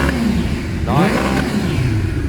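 A Suzuki GSX-R 600 SRAD sport motorcycle, warmed up, with its exhaust revving loud and close in a rising, then falling sweep over a steady engine drone.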